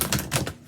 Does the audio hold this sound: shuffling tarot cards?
yes